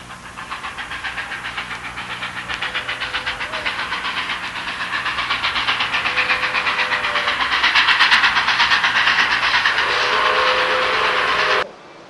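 A model railroad train runs along a small six-foot switching layout at a train show, giving a steady rapid clicking rhythm with a soft hiss that slowly grows louder, joined by faint tones near the end before stopping abruptly.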